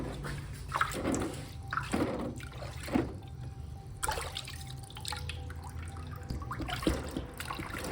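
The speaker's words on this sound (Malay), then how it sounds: "Rendamkan blok kain saring ke dalam tong yang berisi air sambil menyiram rata blok kain saring." Water is splashed and poured over a silk screen printing block soaking in a water-filled tub, giving soft irregular splashes and trickles, quiet and close, with no talking.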